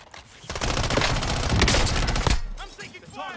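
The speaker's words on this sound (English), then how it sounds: "I'm taking fire." Sustained automatic gunfire in the video game Call of Duty Warzone, a dense loud fusillade of rapid shots lasting a couple of seconds, then trailing off into scattered game sounds.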